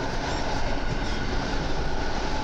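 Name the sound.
EN57 electric multiple unit train running on rails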